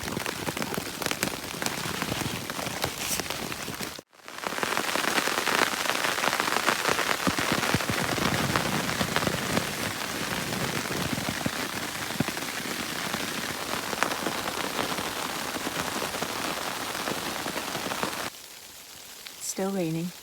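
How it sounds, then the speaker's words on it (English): Steady rain pours down on a winter campsite in New Hampshire's White Mountain National Forest in a dense, continuous hiss of drops hitting a surface, briefly cutting out near the start and thinning toward the end. "still raining."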